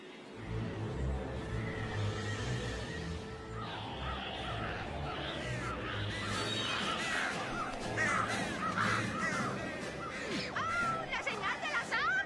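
Cartoon crows caw repeatedly in a My Little Pony episode, the calls rising over busy background noise with a faint engine-like rumble beneath.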